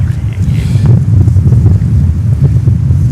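Strong wind buffets an airport's open air, a loud, steady rush with low rumbling gusts that roar continuously close to the microphone, with no voices.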